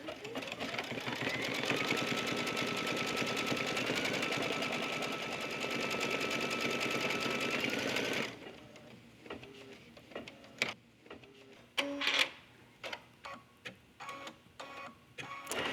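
An embroidery machine stitches an in-the-hoop passport case, running in a fast, steady whir for several seconds, then stopping into scattered clicks and small mechanical taps.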